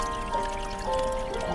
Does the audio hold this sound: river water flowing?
yes